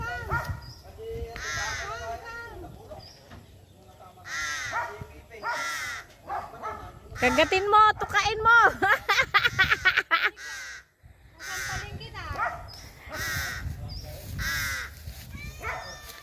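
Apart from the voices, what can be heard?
crow cawing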